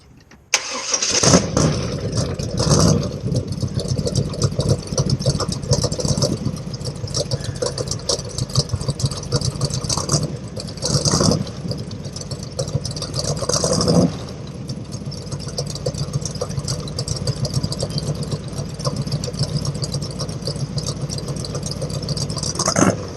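A 1929 Ford Model A street rod cranks and fires up, then its engine and exhaust idle with a loud, close, rough rumble and rattle, blipping several times over roughly twenty seconds.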